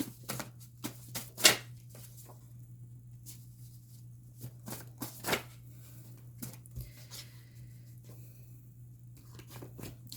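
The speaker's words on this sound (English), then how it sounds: "one more shuffle." A deck of cards is shuffled in a quiet room during a tarot-style reading, producing faint, crisp riffling snaps and scattered clicks over a steady low hum.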